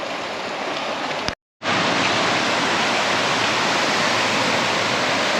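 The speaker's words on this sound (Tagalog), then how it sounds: "malapit na kami sa sinasabi nating Puray Waterfalls" Water rushes loudly and steadily at Puray Waterfalls, reached by a mountain trail from Mt. Ispadang Bato, forming a dense, unbroken roar except for a momentary cutout near the start.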